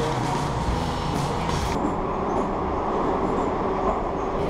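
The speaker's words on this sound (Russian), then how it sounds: "Наш поезд." A metro train rumbles steadily with a constant low roar and metallic rattling, loud and close, as if heard from inside or beside a moving metro car.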